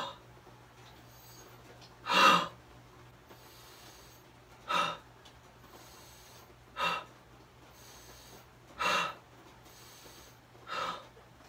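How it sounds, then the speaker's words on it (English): Slow, deliberate breaths during a breathing exercise for clearing phlegm from the throat, five separate audible breaths spaced a couple of seconds apart, close and fairly soft over a low steady hum. "You can also do this with a short breath in and a long breath out, or a long breath in and a short breath out."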